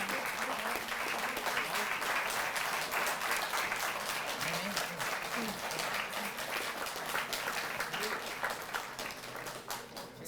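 Steady, sustained applause from a large audience at a government ceremony honoring Tokyo Olympics athletes, continuing for about ten seconds and easing slightly at the end.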